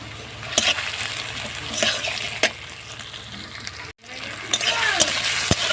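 Whole cumin seeds frying in oil in a pan, a close crackling sizzle with sharp pops and clinks of stirring, broken by a brief cut midway and then resuming.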